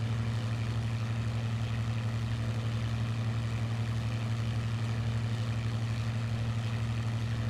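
A video game aircraft's propeller engine drones at high RPM, steady and loud throughout with a constant low hum and no breaks or voices.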